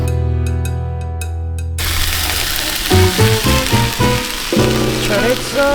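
Chorizo and vegetables fry in a pan at a campsite, giving a steady, loud sizzle that fills the whole stretch while a melody plays over it.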